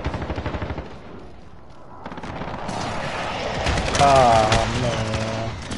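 Explosions from an airstrike in the Call of Duty video game, several heavy blasts layered with gunfire in a loud, dense battle mix while players talk over it.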